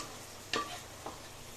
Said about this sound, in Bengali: লাউ ডালটা দেওয়ার পর মশলার সাথে আমি ভালো করে কষিয়ে নেব।